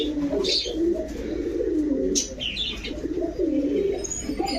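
Domestic pigeons kept for breeding coo in soft, repeated low throaty phrases, close by, with occasional chirps and brief wing flaps over a faint background hum.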